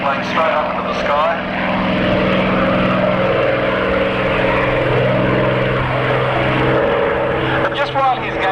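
At a Matamata Airfield air show, a propeller aeroplane's engine drones loud and continuous as it climbs steeply, pitch sliding as it gains height, with commentary voices running over the top.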